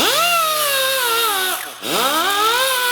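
A power tool strips the coating off a coated steel bracket while installing a JKS front trackbar and sector shaft reinforcement kit, giving a loud, steady, high-pitched motor whine that dips briefly as it loads, then recovers.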